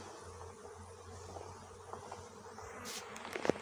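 A honeybee swarm buzzes around a tree near hive number 11, a steady, soft droning hum with a few faint knocks and a sharp click near the end.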